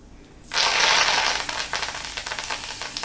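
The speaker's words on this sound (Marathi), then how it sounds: "मोहरी घातल्यानंतर हिंग सुद्धा व्यवस्थित भरपूर घालायचा, म्हणजे मग खमंग फोडणी होते" Mustard seeds, asafoetida, turmeric and curry leaves hitting hot oil for a raw mango dal tempering; quiet at first, then a sudden loud burst of sizzling that settles into steady crackling with spattering pops, close up.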